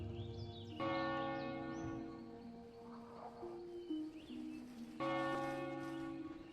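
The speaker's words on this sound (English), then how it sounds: "That's a bell." A church bell rings in World of Warcraft near Northshire Abbey, two resonant strikes several seconds apart whose long humming tones sustain and decay between them, with faint birdsong in the background.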